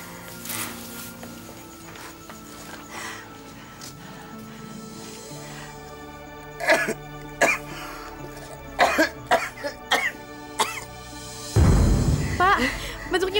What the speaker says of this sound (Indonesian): batuknya berdarah